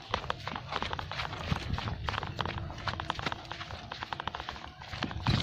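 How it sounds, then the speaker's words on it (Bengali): A bullock cart drawn by cows and loaded with paddy rolls past, with steady hoof clops and a creaking, rattling wooden frame. The sound is busy and continuous at close range, with no one speaking. "এই যে দেখেন গরুর গাড়ি চলে এসেছে আমাদের"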